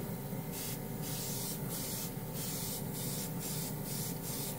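Cheap $20 airbrush and compressor combo spraying paint, a steady close hiss of atomized spray broken by short rhythmic pulses, running alone without talk.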